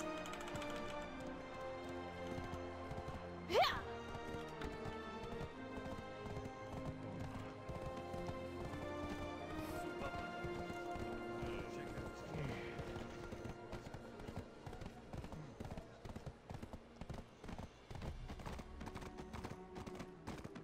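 Galloping horse in the fantasy video game Black Desert Online, continuous quick hoofbeats under a layer of game music, with a brief louder accent near the start.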